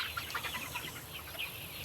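A rooster, a French farm-raised chicken, clucks in short, close bursts over a steady background hiss with no talking.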